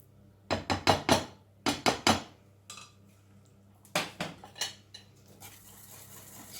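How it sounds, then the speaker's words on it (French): A spoon stirs a rice pudding mixture in a dish, giving bursts of quick scraping clinks in three clusters separated by short pauses, close and fairly loud with no talking. "Je mélange bien tout"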